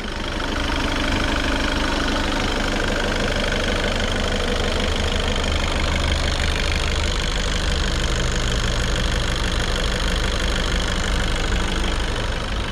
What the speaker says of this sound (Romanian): Hai să auzim motorul direct.